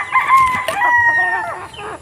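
A Nelson's Black Straight Comb gamefowl rooster crows once, close and loud, a single drawn-out call with rising and falling pitch lasting about two seconds.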